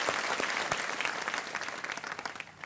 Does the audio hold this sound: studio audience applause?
yes